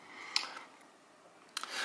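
Leatherman Squirt PS4 multitool scissors make two short crisp snips about a second apart, close and fairly quiet, with no talking.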